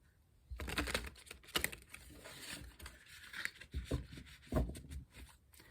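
Tarot cards being shuffled by hand, a series of soft, irregular papery flicks and riffles at close range, quiet, with brief pauses between bursts.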